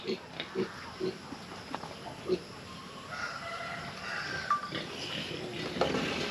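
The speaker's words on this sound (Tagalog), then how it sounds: "Katapos naman kumain ng mga biik natin, lalabas na rin yan sila." Free-range piglets grunt while eating their feed, short close snorts at an irregular pace, with chickens clucking and a rooster faintly crowing in the farmyard background.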